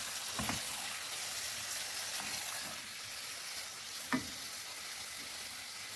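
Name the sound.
chicken sizzling in pan with ginger garlic paste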